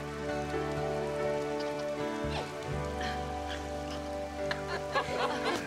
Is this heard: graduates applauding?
no